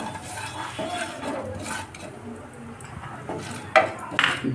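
Black cumin seeds tossed in hot oil in a pan and stirred, giving soft scraping and a few sharp utensil clinks near the end over a low background hiss, close by.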